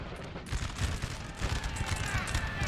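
Artillery and musket volleys boom and crackle in a Napoleonic Total War 3 multiplayer battle, a dense steady barrage heard at a distance, fairly faint throughout.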